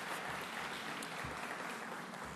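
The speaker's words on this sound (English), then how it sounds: "Please give them a big round of applause." Audience applause at a public event in the Bronx where the New York governor presents infrastructure plans, a steady, fairly faint wash of clapping with no talk over it.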